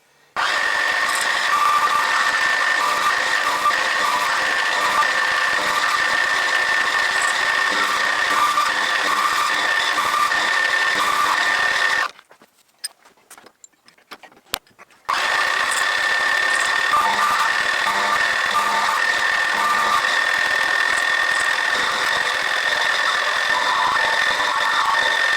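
A lathe skims a Stuart 10V model steam valve down to 10 mm, a steady close whirring cut with a faint high whine that stops abruptly, pauses in near silence for a few seconds, then resumes unchanged.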